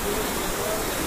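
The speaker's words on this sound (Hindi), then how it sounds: "ये पानी का जो है जलप्रपात प्रवाह हो रहा है" Dense, even rush of falling water from the cascading falls at Sahastradhara near Dehradun, a broad hiss close by and steady for the whole brief moment, with no voices.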